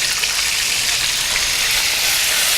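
Pork ribs (entrecosto) frying in hot oil, a steady dense sizzle and crackle that stays loud and even throughout with no talk over it.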